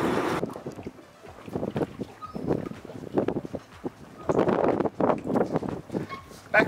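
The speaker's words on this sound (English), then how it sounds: "which is a wet exhaust, so that's why you're getting the water splashing" Water splashing and gurgling in irregular bursts from a boat's wet exhaust on an FPT Cursor 13 engine, with low engine rumble and some wind noise, fairly close.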